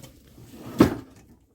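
A storage drawer slides out from under the bed of a DIY camper conversion of a 2010 Kia Sedona minivan, a single short scraping thud close up in a quiet space.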